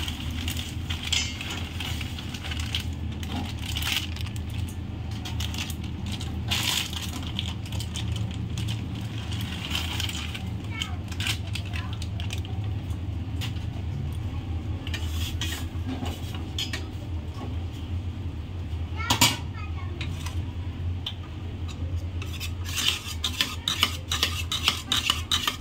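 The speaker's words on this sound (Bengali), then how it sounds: "হালকা করে এই যে ঘুটে নিয়েছি, আর আস্তে আস্তে থাকবে, আর হালকা ঘুটে দিয়েছি।" Cooked lentils (dal) are mashed in a pot with a utensil, giving repeated scraping, clinking and soft squelching strokes close by, irregular and continuous throughout.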